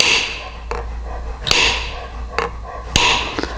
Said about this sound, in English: by hammering in the middle,